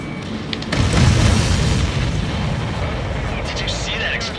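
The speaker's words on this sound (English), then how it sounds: "Did you see that explosion? Looks like that's one of them down." In the Ace Combat 7 flight game, an aircraft is shot down with a deep booming explosion that swells and rumbles for several seconds under steady engine noise, with brief radio-style chatter near the end.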